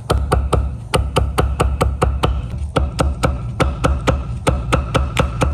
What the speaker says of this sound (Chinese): 再来1根黄瓜，清洗干净，同样切成细丝